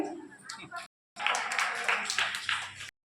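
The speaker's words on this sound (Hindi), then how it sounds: "तालियां दो अपने लिए।" A short burst of clapping from a group of children, lively and fairly close, running for a couple of seconds after a brief pause.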